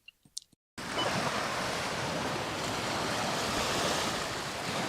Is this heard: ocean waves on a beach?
yes